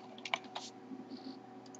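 Keystrokes on a computer keyboard as a zip code is entered on a carrier's coverage-map website, a few quiet clicks in a short burst over a steady low hum.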